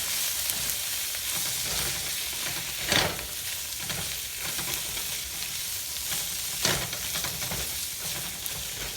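Shrimp and onions frying in a hot pan for Singapore-style bee hoon, a steady loud sizzle broken by two sharp bursts of tossing around three and seven seconds, with no voices.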